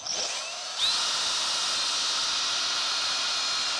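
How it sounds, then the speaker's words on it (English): A hand drill bores through PVC pipe, a steady high-pitched whirring grind that steps up louder after a brief quieter start and continues unbroken, close and alone without talk. "and just drill"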